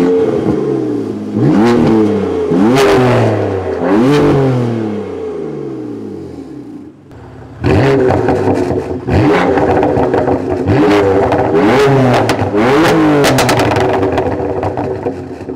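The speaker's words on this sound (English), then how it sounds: "you can hear that AWE's new EPA compliant exhaust sounds incredible" A BMW S55-engined F80 M3 or F82 M4 with an AWE EPA-compliant exhaust revs hard in repeated loud bursts, rising and falling, with a short pause before a second run of aggressive revving.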